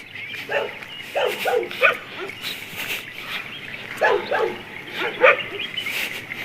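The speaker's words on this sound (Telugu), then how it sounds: "అన్నా కుక్కలు ఉన్నాయి" Several dogs bark by a roadside, giving short loud yips and barks in irregular bursts over steady outdoor background noise.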